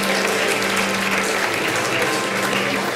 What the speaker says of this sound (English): Please applaud for Barry Parsons, Augustus Love Medal,